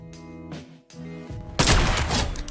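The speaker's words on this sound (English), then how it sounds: "Real quick, I'll just hit a shot to show you guys." A single loud gunshot in the video game Fortnite, a sharp burst of noise that rings out after a brief low tonal background, heard alone.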